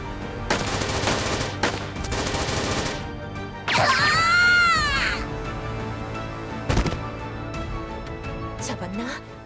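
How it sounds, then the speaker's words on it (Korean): A riot squad in the Trickcal Revive game fires a volley of shots as sharp bursts of cracks, mixed with character voices and background music with a sweeping tonal effect. "진압반 발포해!"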